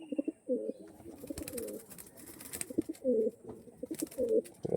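Pigeons of the Oran line, including hens, coo in short throaty bursts that repeat at irregular intervals, close and fairly quiet against a still background.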